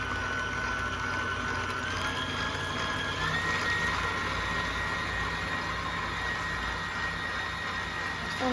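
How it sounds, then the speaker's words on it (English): An electric mixer beats chocolate mousse mixture in a bowl, giving a steady, loud whirring drone with a slight pitch shift partway through and no pauses. "Okay, it's mixing, and I'm gonna beat it like this until it starts to get thick and fluffy"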